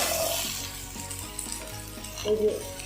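Potatoes fry and sizzle in a pan while being stirred, a continuous close crackle with soft scraping of the spoon against the pan.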